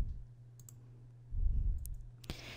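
Computer mouse clicks during a Microsoft Word tutorial, a few sharp, faint clicks spread over a quiet background hum.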